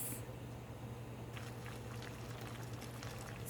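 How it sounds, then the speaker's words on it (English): A covered pot of mango talkari simmering toward a boil, giving a steady low bubbling hiss with faint lid rattles and small clicks, continuous and close throughout. "So I'm gonna cover it and just leave it to come to a nice boil for like 5 minutes."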